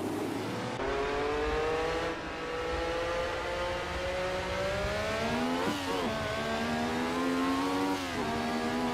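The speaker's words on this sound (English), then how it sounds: "it's a different sound altogether. So this is Niki Lauda's Ferrari." Niki Lauda's Ferrari, driven in the Assetto Corsa racing game, revs loudly and steadily throughout, its engine note climbing in pitch with a brief dip and gear change near the end.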